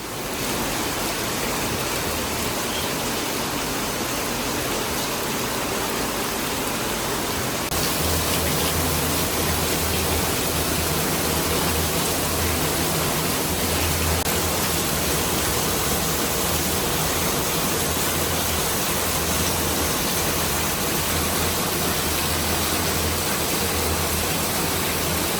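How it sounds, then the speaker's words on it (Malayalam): Heavy rain pours down in a dense, continuous roar, growing noticeably louder and fuller partway through and holding steady to the end. "പരിപാടി തുടങ്ങാറായപ്പോഴേക്കും ദേ ഗംഭീര മഴ."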